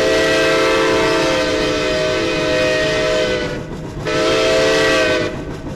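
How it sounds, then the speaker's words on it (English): A steam locomotive's warning whistle in the railway game Century of Steam sounds as a loud, sustained, steady tone for several seconds, dipping briefly, over the rumble of the moving train. "I guess they need to blow that warning whistle for that tunnel"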